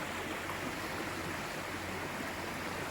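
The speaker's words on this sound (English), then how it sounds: "A very pretty stretch of river." River water flowing past a spot near a footbridge build, a steady broadband rush with no pauses, moderately faint and even throughout, with no voices over it.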